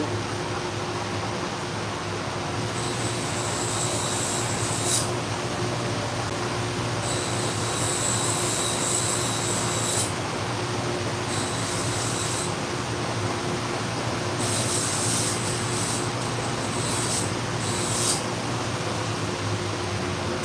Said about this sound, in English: I'm going to clean them up a little bit on the Scotch-Brite wheel.